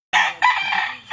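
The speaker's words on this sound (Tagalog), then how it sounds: "Pero yung mga manok ng kapitbahay, sobrang ingay din talaga." A rooster crows nearby, a loud, brief, harsh call in two bursts.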